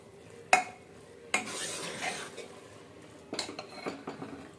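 Grated carrot being roasted and stirred in a pan for gajar ka halwa after long cooking, with a few sharp metal spoon knocks against the pan, scraping, and a light sizzle nearby.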